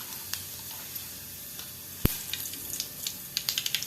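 Mustard seeds and cumin frying in hot oil, a faint, low sizzle with scattered small pops and crackles, one sharp click partway through and quicker popping near the end.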